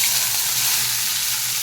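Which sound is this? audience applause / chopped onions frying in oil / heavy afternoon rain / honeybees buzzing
chopped onions frying in oil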